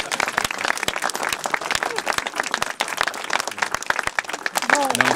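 A crowd at a local political rally in Bercloux claps loudly and steadily, with sharp individual claps standing out and voices calling out over the applause near the end.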